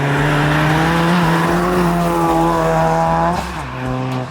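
An Abarth running a stage 3 setup with a Garrett GBC 250 turbo drives past loud and close, its engine note rising steadily in pitch before dropping sharply near the end as it shifts, then climbing again.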